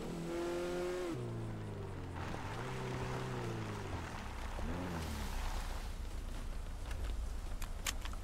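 Engine of a car revving and pulling away in a video game after it is stolen, with rising and falling whines over a steady low rumble, ending in rougher acceleration noise.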